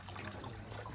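Water trickles and splashes from a shrine purification basin as hands are rinsed, a brief soft running-water sound, fairly quiet and alone.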